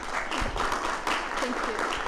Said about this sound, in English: Please welcome with applause.